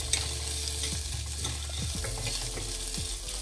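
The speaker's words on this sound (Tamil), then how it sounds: "எல்லாத்தையும் போட்டு ஒரு நல்ல ஒரு குயிக் ஒரு ஸ்டர் கொடுத்துருங்க." Traditional Thrissur chutney ingredients get a quick stir in a pan with coconut oil, a close sizzle with scraping spoon strokes and light knocks against the pan.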